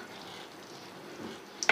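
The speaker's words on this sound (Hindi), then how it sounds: "थोड़ा सा फ्लेम को हम ज़्यादा करेंगे, मीडियम कर लेते हैं, और इसको भुनाई करेंगे अब इसकी अच्छे तरीके से।" Kaleji (liver) masala gravy with yogurt cooking in a pan gives a low, even sizzle, close and soft, with a quick clink of a utensil at the very end.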